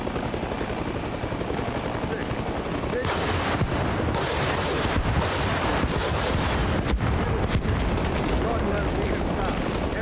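A military helicopter in Arma Reforger makes a rocket run, rotor roar steady and loud throughout while rockets fire and explosions rumble underneath in a dense, continuous wash of noise.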